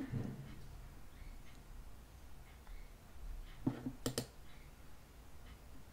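A few soft computer mouse clicks in a quiet room, with a quick double click near the end, close and faint.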